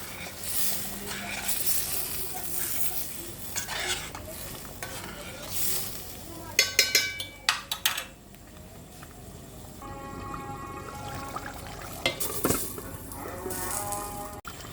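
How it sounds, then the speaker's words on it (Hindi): Chicken browning in a pan with homemade yogurt for a smoky chicken karahi, with a steady sizzle under stirring and scraping and a few louder clattering bursts partway through; no talking. "अब मैं ये इसकी भुनाई करूँगी"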